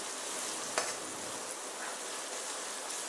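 Green chilies with ginger-garlic paste sauté in a pan for veg biryani, giving a soft, steady frying hiss with one brief stirring scrape.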